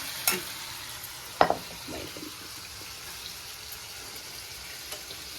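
Raw mango pieces fry gently in a pan for a chutney, giving a soft, steady sizzle with a couple of sharp utensil taps near the start.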